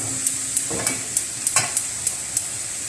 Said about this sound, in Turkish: Kıymayı şu an kavuruyorum.